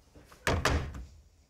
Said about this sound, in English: When someone knocks your door, like, knock, knock, I say, who is it?